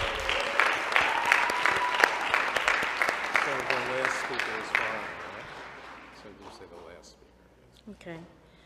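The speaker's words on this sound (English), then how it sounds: "Please give Malik Jackson a big round of applause." The audience at a Board of Education meeting gives a round of applause. The dense, steady clapping lasts about five seconds, then tapers away into quieter room sound and talking.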